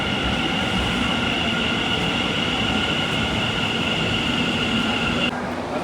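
An Ahmedabad metro train to Gandhigram, heard from inside a carriage as a steady, loud rumble with a continuous high whine that cuts off near the end, with no talk.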